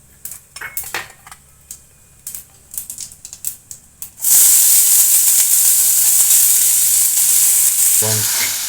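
Chopped onions go into hot oil already crackling with cumin and dried chillies, and a loud, steady sizzle starts at once. Before that come several seconds of light clicks and taps.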